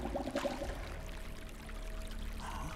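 Water pours into a flask in the survival video game Winter Survival, a soft steady stream running for a few seconds at close range.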